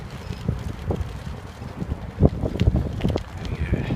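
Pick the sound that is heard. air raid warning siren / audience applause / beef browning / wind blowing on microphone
wind blowing on microphone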